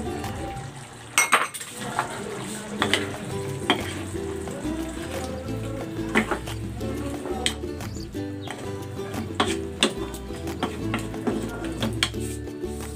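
String beans and bitter gourd added to a pot of pork and vegetables, loud frying sizzle with repeated clinks and knocks of utensils against the pot, close and busy.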